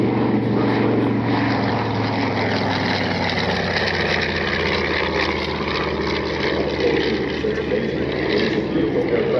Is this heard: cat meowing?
no